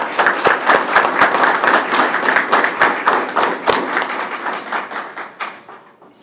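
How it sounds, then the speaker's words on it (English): A round of applause at a school board meeting: brisk, loud clapping from a modest group in a room, some individual claps standing out, gradually thinning and fading over about six seconds. "just wanted to give Cheryl Ward and Katina Fullen recognition and a round of applause"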